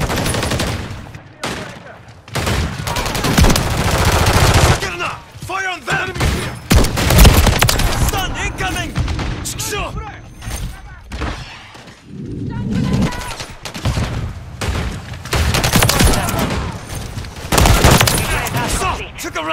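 Shotgun blasts in Modern Warfare 3 on the Shipment map crack out repeatedly and loudly through a frantic match, with in-game voice callouts between shots.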